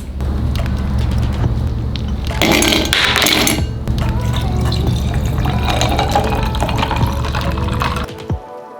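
Golden milk turmeric latte made with homemade almond milk pours over ice into glasses, a close liquid stream with clinks and splashes, continuous for several seconds before stopping abruptly.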